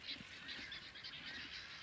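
A flock of birds calls continuously in a high, busy chatter down at a creek, steady and fairly distant, with no voices.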